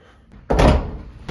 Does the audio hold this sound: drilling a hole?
no